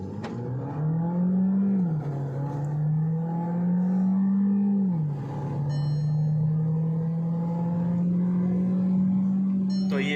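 A VW Virtus 1.5 GT DSG pulls hard from standstill toward 100 km/h, its engine note rising steadily, dipping briefly at a gear change near two and five seconds, then climbing again, loud and continuous from inside the cabin.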